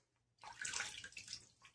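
Water splashed and rubbed onto a face before working in shaving lather, a brief close wet splashing burst lasting about a second, with no talking.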